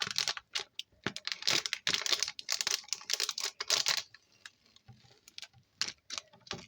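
Snack package of yogurt-chocolate coated treat being opened, crinkly plastic wrapper rustling and tearing in close, busy bursts, then quieter scattered crackles.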